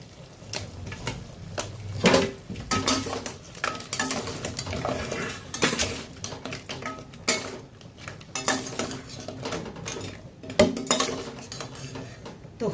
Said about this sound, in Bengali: তো এখন নিমকিগুলো এখন দিয়ে দিই শিরাতে।